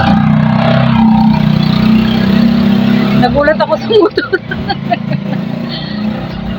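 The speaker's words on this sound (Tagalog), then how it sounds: "Nagulat ako sa motor." Motorcycle passing during a fiesta, a loud close engine drone for about three seconds that then drops away, followed by a person talking over quieter background sound.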